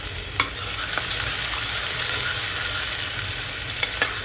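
Chopped onion and a bay leaf fry in oil over a gas flame for mutton pulao, giving a steady close sizzle with a few sharp clicks and scrapes of stirring.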